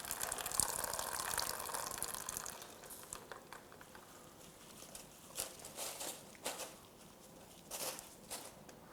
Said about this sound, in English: You want to wring it out a little bit before you put it in there.